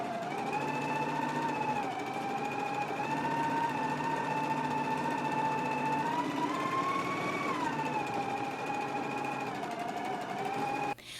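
A sewing machine runs a continuous seam on shorts for 5/8 and 1/4 inch stitching, a steady motor whine whose pitch dips and rises with speed, close and fairly loud, cutting off at the end.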